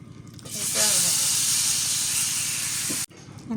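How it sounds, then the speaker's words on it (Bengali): Spices hit hot oil after fish frying for a Bengali fish curry, giving a loud, close, steady hiss and sizzle that runs for about three seconds and then cuts off abruptly. "ফোড়ন দিয়ে দেই। 5 ফোড়ন দিলাম"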